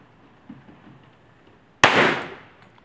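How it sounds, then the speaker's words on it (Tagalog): A single loud, close gunshot from a Glock 21 pistol firing .45 ACP cracks out sharply and rings off in a decaying tail after a few quiet seconds of faint background. "I'm using a standard Glock 21, 45 ACP po"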